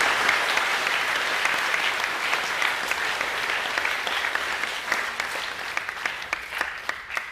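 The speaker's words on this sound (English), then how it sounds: "Can we give them one last round of applause" Sustained school assembly applause for a boys' musical performance, a broad crowd of clapping that thins toward the end into more distinct individual claps.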